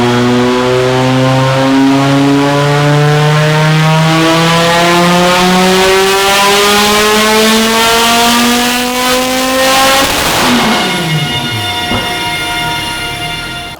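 An Audi Sport Quattro drives hard, its engine note loud and close as it climbs steadily in pitch under acceleration, then drops sharply with a shift before pulling again, with no talking.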